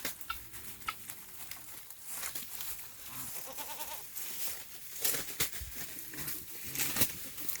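Goats bleat now and then over a busy outdoor farmyard background, with birds and other animal noises mixed in, fairly faint and distant.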